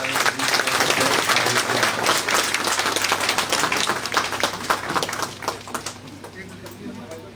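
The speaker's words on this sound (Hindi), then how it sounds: "एक बार जरा ताली बजा दीजिए।" Sustained applause from the audience at a lawyers' meeting on the budget, a dense wash of clapping that holds steady and then gradually thins and fades toward the end.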